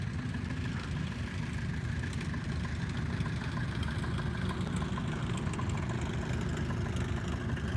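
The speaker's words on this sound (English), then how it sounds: "looks like we've got a 180 taxiing for takeoff right now" A Cessna 180 with a big 470 or 540 engine taxis for takeoff, heard as a steady, moderately distant droning rumble without a break.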